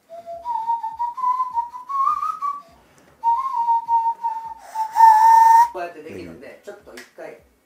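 A nose flute plays a simple folk-style melody in breathy, whistle-like sustained notes that wobble in pitch, split into two phrases with a brief pause between, ending in a noisy burst and laughter.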